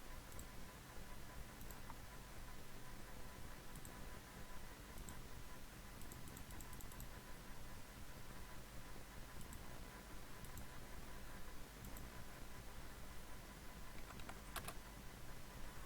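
Steady typing on a computer keyboard, with faint ticking keystrokes running through all sixteen seconds. The sound stays low and even, with a dense background hum and no voices.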